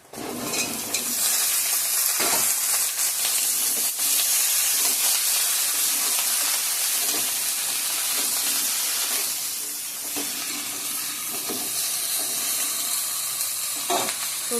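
Ridge gourd, potato and eggplant frying in a hot pan, a steady loud sizzle and hiss with occasional stirring scrapes throughout.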